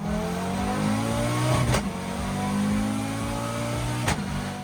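An Audi Quattro rally car engine revs hard, rising and falling through a sustained roar with two sharp bursts, close and loud, with no talking over it.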